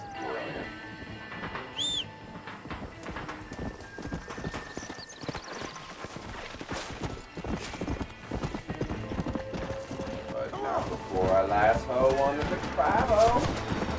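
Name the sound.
horse hooves in video game Red Dead Redemption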